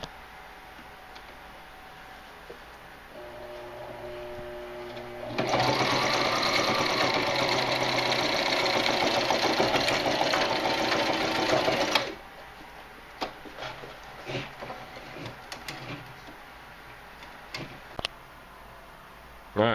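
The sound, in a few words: sewing machine stitching paracord sling webbing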